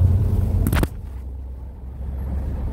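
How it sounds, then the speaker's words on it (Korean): A steady low rumble of road noise inside a Tesla Model 3 cabin, with a brief burst of louder hiss early on before it settles into a constant drone, including noise through the glass. "이 유리에서 나오는 소음들, 기초 소음들은"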